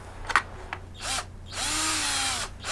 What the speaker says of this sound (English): drilling the pilot hole